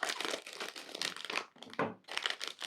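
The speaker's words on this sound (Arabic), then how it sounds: "يلا بسم الله نفتح اول كيس" A plastic bag of crunchy vegetable-flavoured snack crisps is torn open and crinkled, with loud continuous rustling and crackling and a brief pause midway before more crumpling.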